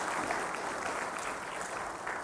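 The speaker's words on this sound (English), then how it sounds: "I request everyone to please put your hands together and welcome him with a rousing" An audience claps in a sustained, even burst of applause at a formal launch event welcoming a minister, dense and moderately distant with no talking over it.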